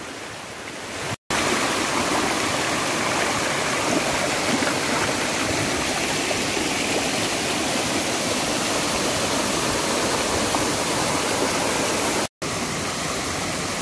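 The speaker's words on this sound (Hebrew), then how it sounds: "הכירו את אשד המפלים של נחל פרוד." A cascade of waterfalls on Nahal Prud, a stream draining the southern slopes of Mount Meron, roars in a loud, steady broadband rush of falling water, close and continuous with two brief dropouts.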